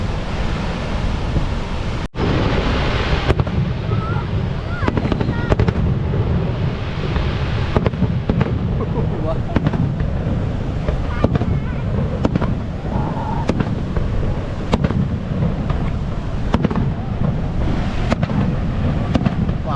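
Fireworks burst over Niagara Falls, sharp pops and booms at irregular intervals over a constant roar of falling water and wind buffeting the microphone.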